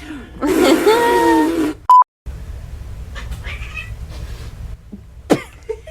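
A person's voice imitates a cat fight with a loud, strained yowling screech, followed after a brief beep by quieter noises and a sharp burst near the end.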